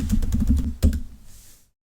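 A password being typed on a computer keyboard: a quick, loud burst of close key clicks ending in one harder keystroke, then silence.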